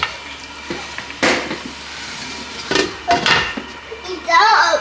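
Dry fish frying in a pot, with a soft sizzle running underneath and loud clattering pot and utensil knocks in short bursts close by; a voice and other talk come and go.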